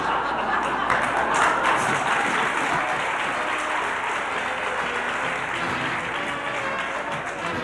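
A crowd applauds a political speaker with sustained, steady clapping that fills the whole stretch, and a few chuckles and murmuring voices sit underneath.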